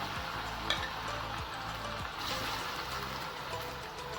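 Colocasia root pieces fry in hot oil with a steady close sizzle and occasional bubbling pops, a constant crackling hiss with a few stirring scrapes.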